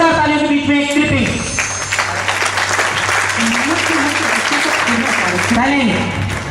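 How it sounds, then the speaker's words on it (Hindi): Loud, continuous applause from a live audience at a Hindi comedy or stage show, filling the whole stretch while a voice or music line runs underneath. "जोरदार तालियों के बीच में एक क्लिपिंग।"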